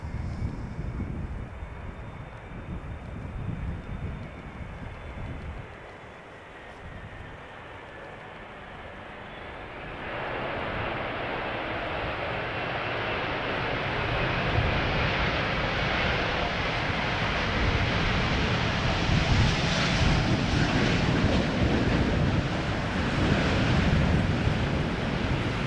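An Airbus A380 coming in to land at Schiphol airport gives a steady, moderately loud jet roar that swells partway through and holds as a broad rushing sound, with wind buffeting the microphone and no voices.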